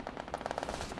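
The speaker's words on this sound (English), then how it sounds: "PCML rocket goes off." A PCML rocket launches in the military video game Arma 3, giving a brief, faint, rapid pulsing rush of roughly a dozen quick bursts, heard alone without talk.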